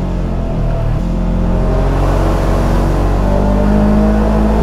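A Polaris General XP side-by-side drives along a trail. Its engine gives a loud, close, steady roaring drone with a deep rumble throughout, and no voices are heard.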